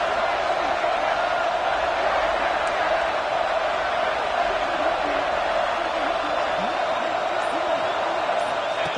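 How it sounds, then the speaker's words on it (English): A football stadium crowd cheers and roars continuously near the goal line, a broad, unbroken din that stays loud for the whole stretch, with faint commentary underneath. "the crowd really making some noise now, trying to help out this defense to get this stop near the goal line."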